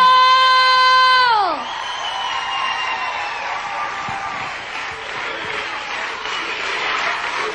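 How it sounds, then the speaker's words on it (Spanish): Live audience applauds and cheers with whoops right after a sung performance on a singing talent show, the final held vocal note fading into a sustained, fairly loud crowd roar. "¡Fuerte el aplauso!"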